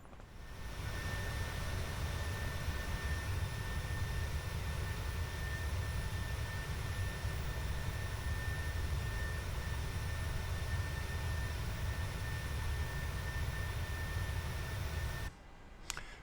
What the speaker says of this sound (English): That engine noise is still a little bit too loud on the outside view, so I'm going to turn that down.